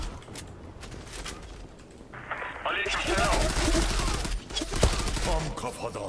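Rapid automatic gunfire crackles in a Zula Battle Royale match, building from scattered shots into sustained loud bursts with mechanical clatter, while a player speaks over it.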